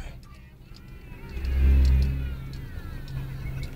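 A car engine revs up as the gas pedal is pressed during a driving lesson, rising to a loud swell midway and then easing back to a steady run.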